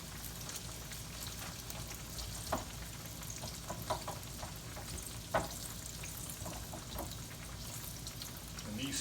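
Green tomatoes frying in a pan give a steady, close crackling sizzle with scattered louder pops throughout, no talking over it.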